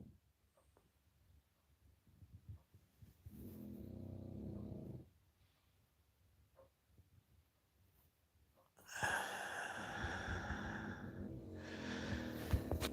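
A dog named Tyson snoring in a bedroom in the early morning, two separate rumbling snore breaths, the second louder and longer with a raspy, wheezing edge, heard close and alone.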